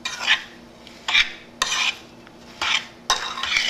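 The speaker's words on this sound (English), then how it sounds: "take your spoon and just stir those up" A spoon stirring sugar into fruit in a bowl, making rhythmic scraping and clinking sweeps about every half second, close and clear with no talking.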